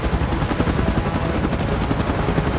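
Helicopter holding position during an emergency evacuation, a loud continuous rotor and engine roar with rapid chopping pulses that stays steady and close throughout, with no talking.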